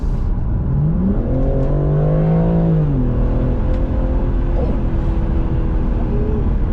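A BMW G80 M3 Competition accelerates hard, its engine note climbing in a smooth rising sweep, then easing back to a steady, loud cabin drone with no one talking.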